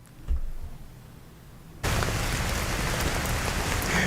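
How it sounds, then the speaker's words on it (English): After a quiet moment with a soft thump, steady heavy rain in Charlotte, North Carolina suddenly fills in, a dense, continuous hiss of drops pattering on surfaces nearby. "Still raining out there, Richard."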